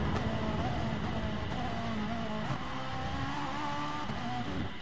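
Continuous engine drone from Gr4 race cars, including a Ferrari, during a GT Sport race at Bathurst, loud and steady as the cars run down the straights.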